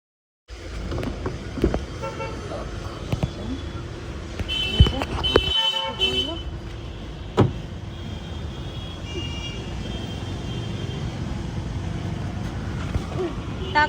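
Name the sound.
car being driven, with horn toots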